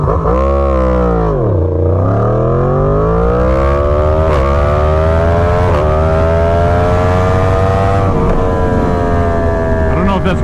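Yamaha FZ-10/MT-10 motorcycle accelerating hard in standard mode, engine pitch climbing steadily through short-shifted first and second gears with brief dips at each change, loud and close with wind roar.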